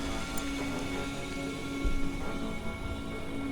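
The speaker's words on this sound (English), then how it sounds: "Oh, meteor rain. That's not good." Meteor rain in the survival game Stranded: Alien Dawn sounds as a steady, dense hiss of falling debris, like a heavy downpour, with a low rumbling swell partway through and no voices.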